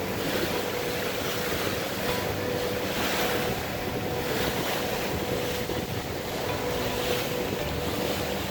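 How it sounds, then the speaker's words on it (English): Ocean waves crash onto a Costa Rican beach, heard from a boat offshore as a continuous roaring wash with gentle surges, mixed with heavy wind buffeting the microphone. "looking at the waves from a boat, watching them crash onto the beach"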